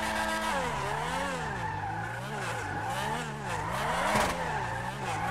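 A car brakes and skids in a video game, with loud, wavering tire squeals sliding up and down in pitch over engine noise, continuous and close, with no talking.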